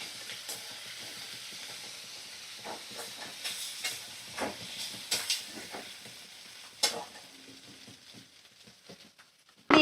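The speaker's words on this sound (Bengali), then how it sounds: "পেঁয়াজ আলু কাঁচা লঙ্কা আমি ভালো করে নাড়াচাড়া করে ভাজা করে নিচ্ছি" Onion, potato and green chilli frying in a pan, a steady low sizzle and hiss running throughout with repeated soft scrapes and clinks of stirring, fairly quiet and close.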